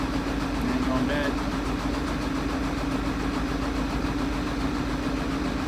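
A common rail diesel engine idles with a steady, rough low drone and even vibration, while a muffled voice is faintly present.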